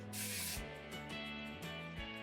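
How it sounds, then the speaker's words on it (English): A short burst of hairspray hisses close by for about half a second, followed by quieter rubbing and faint background hum. "And we're going to spray the bottom."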